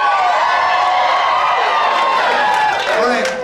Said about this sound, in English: I need you guys to like cheer as loud as you can and as hype as you can.